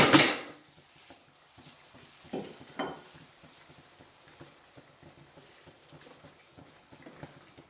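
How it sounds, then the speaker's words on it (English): Fried paneer stirred into a curry in a pan, opening with a loud clatter, then quieter scraping and a soft bubbling sizzle, with occasional knocks of the utensil against the pan. "I'm going to add the fried paneer in at this point and allow that"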